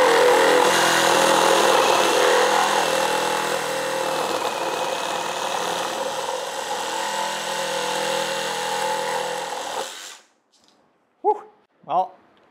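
A Ryobi ONE+ HP 18V brushless compact one-handed reciprocating saw cuts through a jagged piece, giving a loud, steady buzzing drone for about ten seconds before it stops abruptly, followed by two short bursts of talk.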